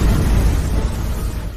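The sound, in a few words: explosion from a divine sword in an animated story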